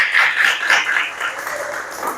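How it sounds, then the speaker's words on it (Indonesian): Applause from a class of students in an Islamic madrasah aliyah during a Qur'an Hadith lesson, a dense, steady patter of clapping that lasts about two seconds and fades slightly toward the end. "Tepuk tangan dulu."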